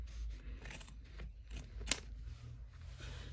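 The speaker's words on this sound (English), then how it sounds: "So you can fold the lining back like this and trim the rest" Scissors trimming the fabric lining of an in-the-hoop embroidered bag, several quiet close snips with one sharper cut, over a low background hum, no speech.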